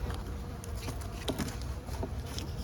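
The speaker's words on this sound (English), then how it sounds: "There's bees in here." Honeybees buzz inside a hive in mid-February, a dense, steady close-up drone with scattered brighter wingbeat flickers and faint tapping.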